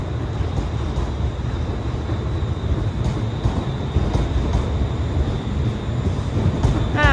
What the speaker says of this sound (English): Departing out now is the 1015 Scotrail service, starting here at Glasgow Central, going to Ardrossan Harbour.